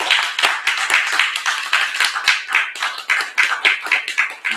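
Audience applause at a Black Holocaust Remembrance Day commemoration, a crowd clapping close and loud with a quick, irregular patter of hands that keeps going without pause.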